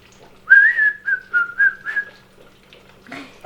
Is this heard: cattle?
no